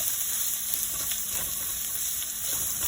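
Onion and garlic sizzle steadily in hot oil in a pan for corned beef, a continuous close frying hiss with faint stirring clicks and no voices.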